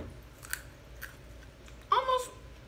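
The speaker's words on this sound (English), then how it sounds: "Very crunchy, like the outside skin of a cucumber." Raw Chinese python snake bean bitten and chewed, a couple of soft crisp crunches early followed by a louder, dense crunching bite near the end, close up with no talk.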